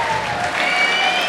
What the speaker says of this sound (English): that applause was probably appreciated